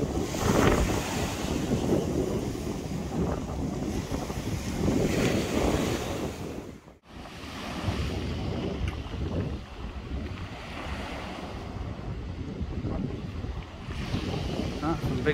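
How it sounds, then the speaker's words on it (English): Big ocean waves roll and break along a beach, a continuous loud wash of surf mixed with gusting wind buffeting the microphone, briefly dropping off midway before the roar returns. "Ah, some big waves coming over there, James."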